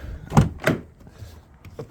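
A newly replaced Skoda Superb car door with a gap at the top is pushed shut but fails to latch, giving two close, dull thunks in quick succession with faint voices around them.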